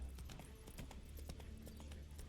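Steady clip-clop of a horse's hooves at a walking pace in the video game The Witcher 3: Wild Hunt, over a low rumbling background, with a few faint higher clicks scattered through.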